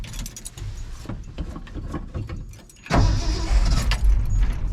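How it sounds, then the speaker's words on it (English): An old truck that has sat unused for weeks cranks with a labored, uneven churning, then catches and roars into a loud, close running engine rumble. "But let's fire this truck up, see if she'll start."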